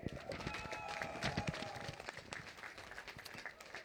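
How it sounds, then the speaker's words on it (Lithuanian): Faint applause from a crowd at a 2024 song festival choir concert in Lazdijai, Lithuania, a dense patter of clapping that continues steadily throughout at a distance. "Jūsų plojimai ir šiluma"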